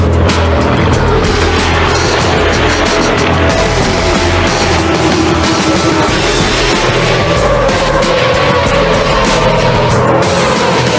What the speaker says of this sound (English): A superbike is a street motorcycle that has been modified into a high-performance racing bike.